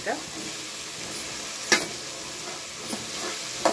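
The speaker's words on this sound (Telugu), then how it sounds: "ఇక మనం శనగలను అయితే వేసేసుకుందాం. ఇక ఒకసారి బాగా కలిపేసుకుందాం." Chickpeas being stirred into cooked masala paste in a sizzling pan, with a steady frying hiss broken by a few brief scrapes of the spoon.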